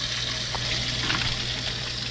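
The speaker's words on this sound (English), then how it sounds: "So we run some hot water, as hot as it'll get," Hot tap water runs at full heat down a kitchen sink drain for a garbage disposal cleaning, making a steady, close rushing gush with no pauses and no talking.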